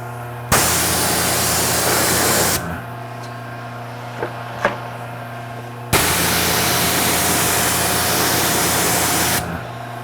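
Pressure washer spraying a 2013 Ford Raptor at roughly 1,000 to 1,200 PSI, two long loud hissing bursts, with a steady motor hum and a couple of small knocks in the pause between.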